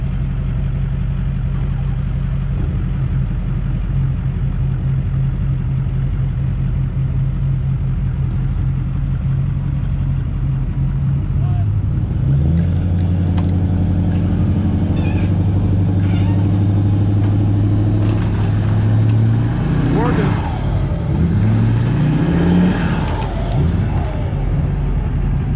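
A Duramax pickup's diesel engine idles steadily, then climbs to a higher held drone about halfway through as it holds against a winch pulling out a stuck Ford F450. Near the end the engine wavers and shifts pitch in a few changes.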